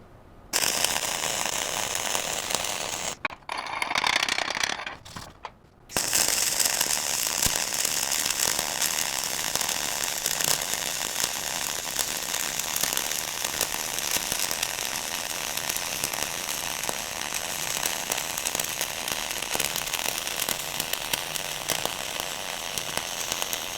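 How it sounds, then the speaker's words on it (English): Flux-cored arc welding lays a surface weld bead, giving a steady, close, dense crackling sizzle that runs nearly nonstop, with a few brief pauses near the start, and no talking. "notice that the flux cord wire has a nice smooth setting, a nice smooth sound"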